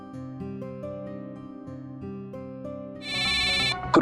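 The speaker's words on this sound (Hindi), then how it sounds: "गुरप्रीत की वीडियो कॉल" A phone plays a melodic electronic ringtone for an incoming video call, a looping tune of steady tones that gives way at the end to a brighter, louder buzzing chime.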